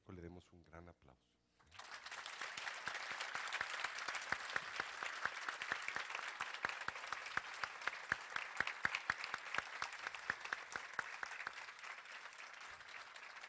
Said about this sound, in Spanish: por lo que le suplico le demos un gran aplauso.